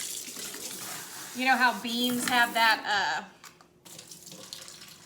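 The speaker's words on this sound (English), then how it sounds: "I'm gonna run some water just in the can" Tap water runs into a can of drained navy beans with a hissing, splashing stream that rises briefly and then stops, while someone talks over it throughout.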